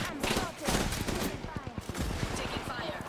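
Bursts of rapid gunfire from the video game Apex Legends, dense automatic shots alongside a game voice line, loud and close throughout.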